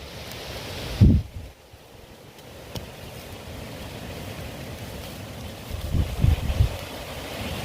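Steady gusting wind roars across the microphone, with heavier buffeting bursts near the start and again toward the end.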